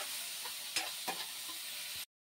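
Cumin seeds fry in a pan for an egg curry spice paste, making a short, steady crackling sizzle with a few sharper pops before it cuts off abruptly.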